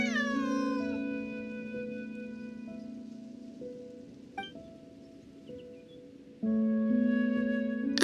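A cat in the Genshin Impact video game gives a drawn-out, tonal meow followed by a sustained wavering cry that fades, then a second loud meow starts, close and clear over a faint steady background.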